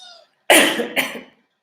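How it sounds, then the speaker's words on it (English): Two harsh coughs close by, one right after the other, with a faint voice just before. "excuse me, I have to cough."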